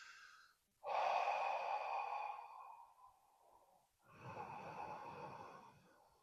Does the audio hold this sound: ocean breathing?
yes